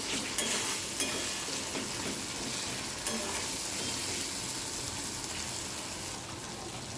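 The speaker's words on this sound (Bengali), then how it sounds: "ভালো করে কষে নেব।" Meat and potatoes sizzle steadily in a pan during kosha-style frying, a constant close hiss with occasional soft scrapes from stirring.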